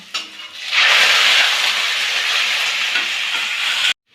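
Meat and browned onions fry in hot oil, giving a loud, steady, close sizzle that swells after a brief quieter start and then cuts off abruptly, with no talking.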